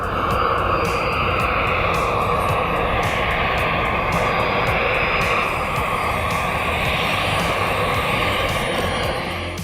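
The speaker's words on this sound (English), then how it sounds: "a turbojet engine producing 80-kilogram force of thrust" A small turbojet engine rated at 80 kilogram-force of thrust powers the M-02J mini aircraft, giving a loud, steady roar and hiss that holds level and close for the whole stretch.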